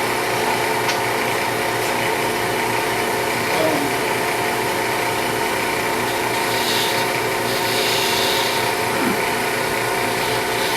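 A skew chisel scrapes turned plywood spinning on a wood lathe, giving a continuous loud rasping rub over the steady hum of the machine for the whole stretch.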